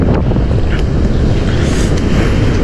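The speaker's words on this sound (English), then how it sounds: "it hasn't been an easy day fishing just due to the wind. Super windy." Strong wind buffeting the microphone on a beach near Vandenberg Space Force Base while surf fishing: loud, constant low roar of gusts over surf, with no talk.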